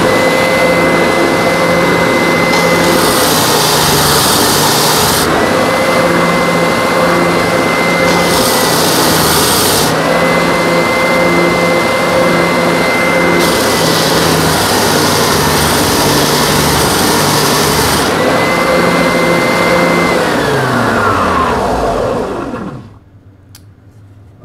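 A Triton 450W oscillating sander drones steadily at close range in a workshop, its constant motor whine swelling with bursts of harsher sanding noise for about twenty-two seconds before it spins down and stops.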